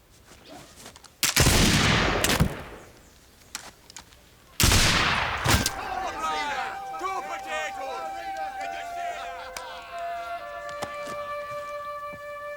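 Two loud musket shots ring out in quick succession, each a sharp blast with a trailing crack, followed by a third after a pause and then a lingering ringing, echoey tail with faint crowd murmur.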